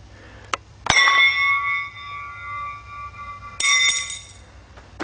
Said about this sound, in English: Okay, we're test firing at 600 volts.